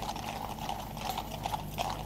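Mounted troopers' horses clip-clop along a street in central London, a quick, even run of hoofbeats at moderate distance that grows slightly busier and louder toward the end, with no talk over it.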